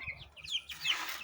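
Young chickens clucking and chirping close by, a few short calls followed by a louder burst of overlapping cackles.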